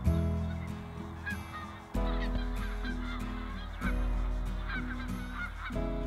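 Geese honk repeatedly in loud, nasal calls, several birds overlapping in bursts that swell and fade, close by with no talking.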